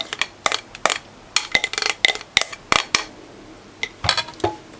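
Mashed banana blended into a butter mixture in a bowl for banana bread, heard as a run of irregular clinking and scraping utensil strokes against the bowl, close and fairly loud, with short pauses between bursts.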